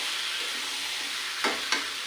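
Potatoes hit hot oil in a home kitchen during chicken curry cooking, a soft continuous sizzle with two brief louder bursts near the end.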